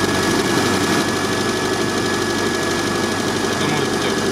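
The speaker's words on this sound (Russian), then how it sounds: "Так мотор хорошо работает." A car engine idles steadily at high revs after fluid is topped up, a continuous close mechanical hum with a faint knock, while people talk over it.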